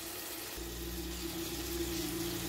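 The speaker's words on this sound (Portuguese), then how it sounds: "eu vou colocar água aqui nessa minha panela aqui pra eu fazer o arroz" Water running from a tap into a cooking pot for rice in a home kitchen, a continuous steady rush with a low hum underneath, no voices.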